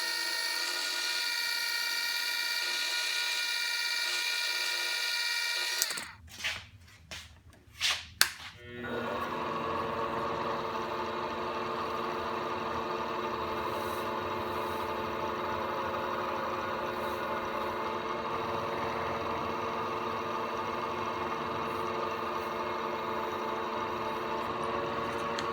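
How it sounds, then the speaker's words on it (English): A lathe motor runs with a steady high whine; after a few sharp knocks it settles into a continuous hum with a grinding, abrasive tone of sanding and polishing a metal screwdriver ferrule held on a dowel jig. "I made a dowel jig to hold the ferrule in the lathe for sanding and polishing."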